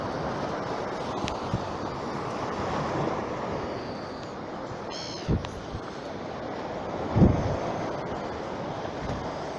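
Steady surf rumbles along a beach with wind buffeting the microphone, plus a couple of brief thumps and a faint high chirp.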